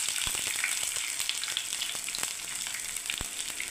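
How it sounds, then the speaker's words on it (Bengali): Cumin seeds, dried red chilies, curry leaves and garlic crackle in hot oil, a steady close sizzle with sharp pops and spatters scattered throughout. "এবার এগুলোকে ভাজতে থাকবো বন্ধুরা"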